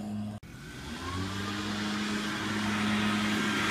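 A leaf blower clearing a backyard roars steadily nearby, holding a constant droning whine after a brief cut near the start.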